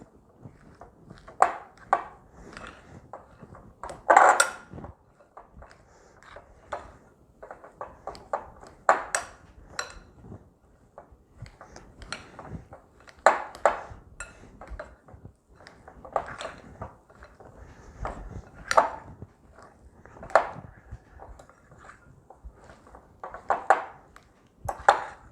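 Keto cheddar biscuit dough mixed in a bowl, with irregular scraping and tapping knocks from the utensil against the bowl repeating through the clip, fairly close and quiet.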